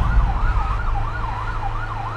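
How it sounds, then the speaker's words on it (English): A police car siren in the Police Simulator video game, loud and close, wailing in a steady rising and falling sweep over a low engine rumble on a highway. "I know you hear that siren"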